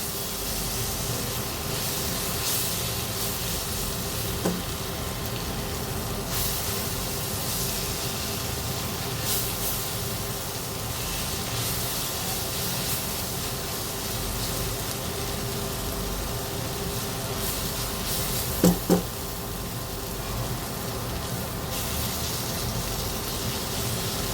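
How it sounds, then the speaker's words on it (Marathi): Drumstick leaves stir-fried in a pan give off a steady, continuous sizzle and hiss that runs unbroken throughout, with a couple of brief utensil clinks near the end and no talking. "हे परतून घेत असताना हे पानं सुट्टी होतील, याप्रमाणे परतून घ्यावे"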